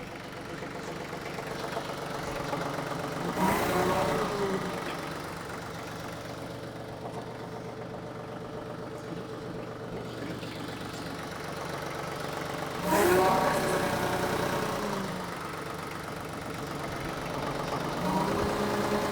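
A TYM 2515H compact tractor idles as it creeps forward, a steady low diesel rumble with two brief swells in revs partway through, moderately close and without voices.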